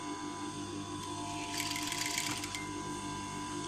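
A sewing machine runs steadily while a plain blouse is stitched along an earlier seam, giving a close, continuous mechanical whir that swells briefly midway.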